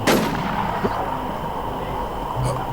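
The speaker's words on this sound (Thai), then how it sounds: "สไนนี่แม่งก็ยิงจัง" A single sharp sniper rifle shot in the Warzone video game cracks loudly at the start, its echo fading into a low ambient rumble, with a faint distant pop near the end.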